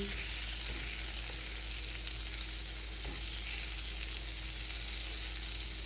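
Potatoes roasting in a pan with oil give a steady, even sizzle and crackle throughout, with faint occasional stirring knocks, moderately quiet and without speech.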